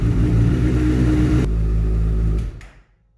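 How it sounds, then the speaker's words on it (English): A Honda CBR1000RR motorcycle engine idles close by with a deep, steady rumble, its tone shifting partway through before winding down and falling quiet at the end. "We're gonna go ahead and start the bike, let it run for a little bit"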